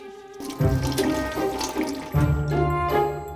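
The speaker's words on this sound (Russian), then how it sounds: "Вместо умывальника кастрюлька с краном." Water runs from a tap on a pot serving as a washbasin in the Sahara desert, Tunisia, streaming in two close bursts with a brief pause between, splashing loudly with no voices.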